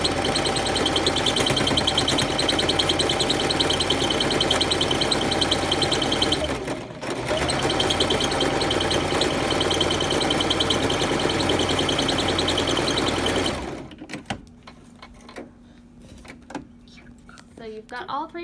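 A sewing machine stitching a fabric face mask runs in a steady close whirring drone, briefly pausing midway, then stops, leaving quiet handling noises afterward.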